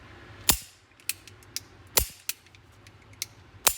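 A Girsan Bora Light 9mm pistol is dry-fired, its hammer snapping down in a few sharp, close metallic clicks with quieter mechanical clicks of the trigger and action between them.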